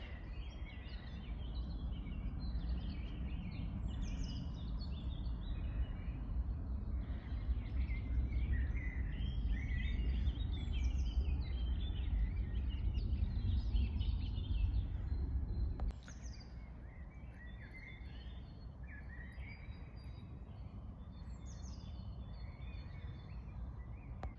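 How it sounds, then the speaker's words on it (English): Birds chirp and call continuously in a forest beside a small river, with a steady wash of flowing water underneath and the song thinning slightly near the end. "Listen to all the bird noises."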